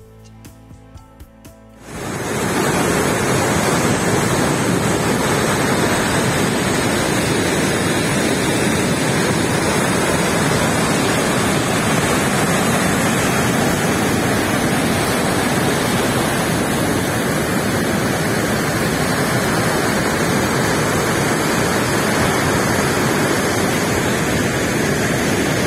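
Dettifoss waterfall in Iceland thunders as a loud, continuous broadband roar that fills the whole scene, steady and unbroken for over twenty seconds after a brief quieter moment at the start.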